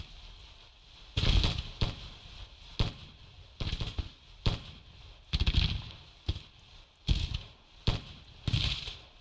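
Musket volleys crackle from a Civil War battle in Grand Tactician: The Civil War, a string of about ten sharp, loud bursts at irregular intervals, each with a short rumbling tail, no talk over them.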